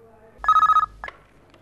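Telephone ringing in a Hindi classic TV drama scene: a single loud, near electronic ring burst with rapid pulses, followed by a brief click as the line picks up.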